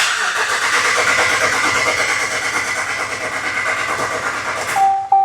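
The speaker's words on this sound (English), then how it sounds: "I just didn't want to fire it up with no oil pressure" A 2014 Ram 1500 4x4 with a 5.7-litre V8, under oil pan repair, runs with a loud, steady engine roar that fills the whole clip and then cuts off abruptly near the end, leaving a few faint beeps.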